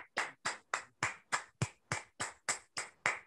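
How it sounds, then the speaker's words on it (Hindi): A crowd at the RCM Business National Celebration 2021 claps in unison. About a dozen loud, crisp claps land in a steady, even rhythm with short silences between them. "आपकी जबरदस्त तालियों के बीच में"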